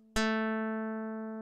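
A pure computer-generated electronic tone starts abruptly and sustains steadily, a perfect fifth (3:2 ratio) of two pitches ringing together and slowly fading.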